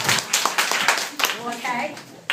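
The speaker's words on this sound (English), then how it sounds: "Can I get a round of applause?" An audience gives a brief round of applause for a class celebration, with scattered claps mixed with speech and children's voices, plus a sharp burst near the end.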